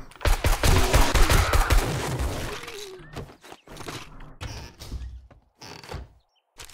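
Gunfire in 7 Days to Die, a loud burst of rapid automatic shots up close with shattering and mechanical clatter, thinning into scattered single shots and quiet gaps.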